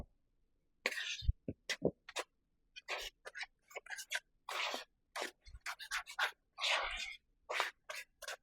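Naan dough ingredients with yogurt are stirred in a bowl, making irregular soft scraping, rubbing and knocking sounds in short bursts with quiet gaps, close and fairly faint.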